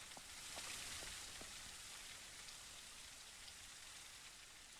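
Steady rain falls in the video game Surroundead, a soft, even hiss that continues throughout with faint scattered droplet ticks.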